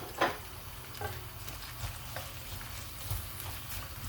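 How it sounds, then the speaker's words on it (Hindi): Onions frying in a pan for a chicken curry, a steady close sizzle with a few sharp spatters and stirring clicks, alone without talk. "अब हमने प्याज को अच्छी तरह कुक करना है"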